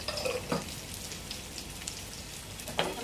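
Fish coated in gram flour fries in hot oil with a steady, close crackling sizzle, broken by a few louder spattering pops.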